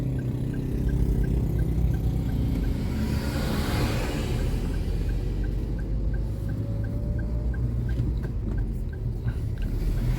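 A car rolls along a city street in first gear, giving a continuous close engine rumble with steady road noise and a soft rhythmic ticking throughout.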